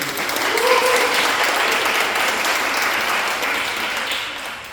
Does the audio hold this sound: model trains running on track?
no